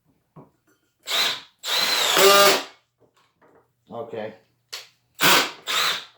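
A Milwaukee M18 brushless drill whirs in several short bursts, one longer burst boring into wood with a 1.25-inch spade bit, with a brief spoken word between runs.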